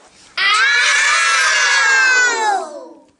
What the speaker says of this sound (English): He let out a deafening roar of pain.